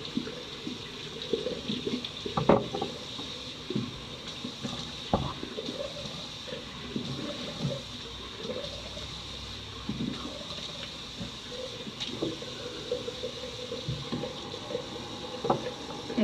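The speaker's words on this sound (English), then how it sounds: "So all I'm gonna do is just wash my face again." Water runs steadily from a bathroom sink tap while someone washes their face, with irregular splashes and soft slaps of wet hands. The close, moderately quiet flow continues throughout.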